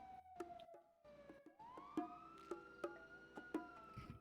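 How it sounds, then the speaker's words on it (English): A police car siren in a roleplay video game wails with a rising and falling tone, fairly faint and steady across the whole stretch, punctuated by a few sharp clicks, with no talking. "I'm gonna go turn the siren off."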